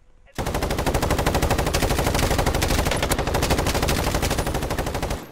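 Unsuppressed automatic gunfire in a video game erupts suddenly and runs as a loud, rapid, sustained burst of shots lasting about five seconds.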